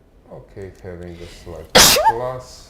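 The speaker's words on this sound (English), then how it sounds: "Bless you." A single loud, sharp sneeze bursts out in the middle of live chess championship commentary, with someone talking steadily before and just after it.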